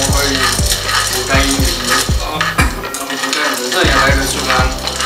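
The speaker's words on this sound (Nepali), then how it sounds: "मिस्टर राई र सुखाङले उयो मकैहरू भुट्दै थियो" Corn kernels are roasted in a pan in North Sikkim and stirred with regular, rhythmic scraping strokes, each one clattering close and loud over a soft sizzle.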